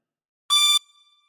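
A chromatic harmonica sounds a single short drawn note, bright and reedy, close and alone, cutting off cleanly after a fraction of a second.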